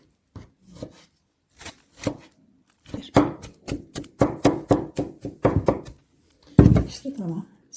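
Knife chopping peeled onion and tomato on a board in irregular bursts of quick taps, close by, with brief pauses between runs and occasional talking.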